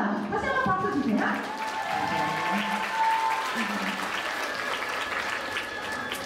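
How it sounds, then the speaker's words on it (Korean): An audience at a girls' middle and high school celebration for the Day of the Virgin Mary breaks into sustained applause, full and steady, with voices calling out over the clapping. "다시 한번 박수 주세요"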